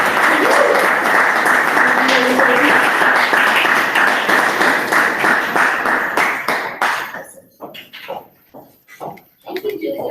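An audience at a Tallahassee information session breaks into loud, sustained applause that fills the room for several seconds, then thins to scattered individual claps and dies away.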